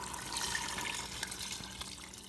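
Seasoned broth with thyme, garlic and salt is poured back into homemade chicken soup, a steady, soft stream of liquid running and splashing for a couple of seconds.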